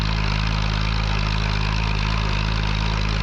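A 1949 Fordson P6 Major tractor engine labours steadily up a hill on a show road run in Scotland, a deep droning chug with a constant low throb, loud and close, with no talking.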